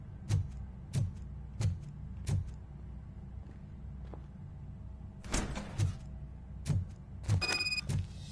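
A door in the Robocop: Rogue City video game works through repeated mechanical thunks and clanks in a steady rhythm, followed by a louder sliding, whirring burst and further knocks, quiet and without talk.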